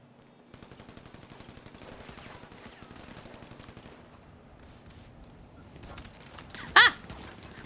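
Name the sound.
gunfire in GTA V roleplay video game (NoPixel)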